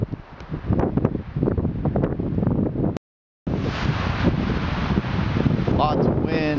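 Strong wind buffets the microphone at a high mountain campsite on Telescope Peak, a loud continuous roar broken by a brief dropout, with a voice speaking under the gusts early on.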